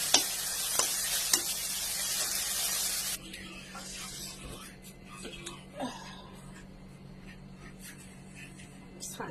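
Shrimp with okra frying in a pan, with a loud, dense sizzle through the first three seconds and then a quieter crackle with scattered stirring scrapes. A voice talks over parts of it.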